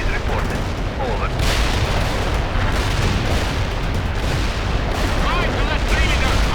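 Dense, continuous artillery barrage in the World in Conflict war game, overlapping booms and blasts with gunfire rumbling throughout, loud and close, with radio-style voices talking over parts of it.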